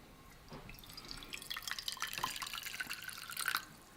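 Boiled red cabbage water being poured into a container, a steady close trickling and splashing of liquid with small drips, building slightly louder toward the end before stopping, with no talk.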